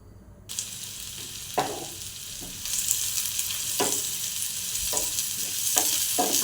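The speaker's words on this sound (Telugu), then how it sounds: "ఆయిల్ కాస్త వేడైన తర్వాత ఆనియన్స్ వేసుకుందాము." Onions dropped into hot oil in a pan start frying with a sudden hiss that settles into a steady sizzle, with occasional stirring knocks against the pan, close and moderately loud.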